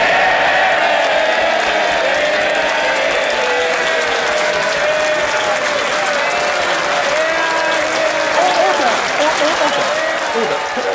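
Members of Parliament applaud in the House of Commons chamber, a sustained, loud wash of many hands clapping at once with scattered cheers mixed in, steady throughout.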